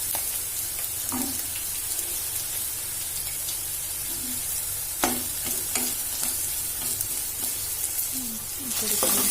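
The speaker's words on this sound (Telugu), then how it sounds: "ఇక్కడ ఈ కాకరకాయ ముక్కలు చూడండి ఫ్రై అవుతుంది." Bitter gourd pieces fry over a medium flame in a pan, giving a constant loud sizzle broken by scraping stirs and a few clinks from the utensil, with no one speaking.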